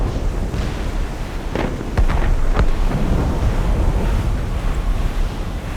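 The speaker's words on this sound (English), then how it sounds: "Cannon fire. Deep within the fog." Cannon fire deep in fog at sea in Assassin's Creed Rogue: a few dull, distant booms thud over a constant wash of ocean waves and wind.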